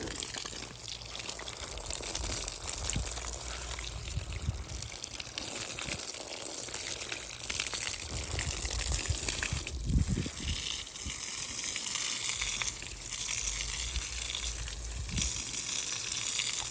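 Water runs from a hose pipe to bathe a Jersey cow on a farm, a continuous close gushing and splashing that holds steady throughout with no talk.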